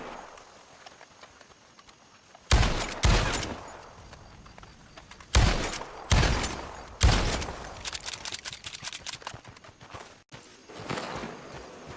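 Revolver or rifle shots ring out during free-aim practice in Red Dead Online, loud sharp cracks in irregular bursts with a rapid string of shots near the end, alongside horse hoofbeats.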